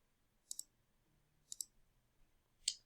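Calculator keys clicked in short bursts while numbers are entered, three quick double-click clusters spaced about a second apart, close and crisp against a quiet background.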